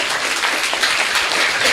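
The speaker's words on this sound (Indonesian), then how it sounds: "Tepuk tangan." A brief burst of audience clapping at a community discussion event in Banyuwangi, close and fairly loud, a dense patter of hands with no voices over it.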